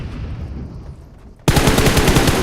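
Automatic weapon fire in the battle-royale game PUBG Mobile: after a quiet stretch of faint ambience, a loud rapid burst of evenly spaced shots erupts and continues to the end, close and sharp.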